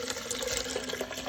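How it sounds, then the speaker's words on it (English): Soaked, soft paper pulp poured into a blender, a steady wet splashing and trickling of liquid that runs continuously and close by, with no talking. "what I'm going to do is I'm going to pour the paper pulp"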